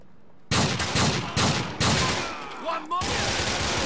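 Gunfire in the video game GTA IV: a burst of several loud, close shots in quick succession, followed by sustained rattling fire with no break.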